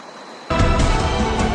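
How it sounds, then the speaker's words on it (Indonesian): Kuta Malaka waterfall in Indrapuri, Aceh Besar, roars as a steady, loud, broadband rush of falling water that cuts in abruptly after a short quiet moment. "Kita mau menikmati lagi nih pemirsa, air terjun Kuta Malaka tepat di pusatnya"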